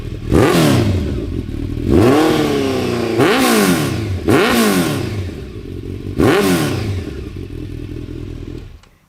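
A 1995 Honda CB1000 motorcycle engine revs hard in five loud, close bursts, each rising sharply and falling back to a steady idle between them.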